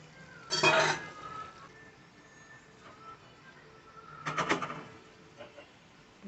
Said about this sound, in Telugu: ములక్కాడలు అనేవి చితకకుండా చక్కగా నెమ్మదిగా కలుపుకోండి.